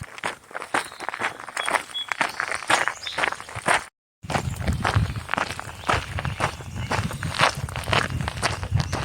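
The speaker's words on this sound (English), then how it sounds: "That sound we all love. The sound of the cadence of hiking." Steady, close footsteps of a hiker on the Appalachian Trail crunch rhythmically over forest ground in a continuous walking cadence, broken by a brief gap near the middle.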